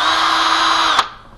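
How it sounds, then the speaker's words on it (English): A power drill whines steadily while boring a hole through existing sink drain plumbing, then cuts off abruptly near the end, leaving a faint fading tail. "You would start by drilling a hole in your"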